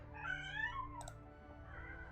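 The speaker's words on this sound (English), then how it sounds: "my cat is yowling for some reason" A house cat yowls faintly in the background with drawn-out, wavering meows over a low steady hum, quiet and distant in a home recording setting.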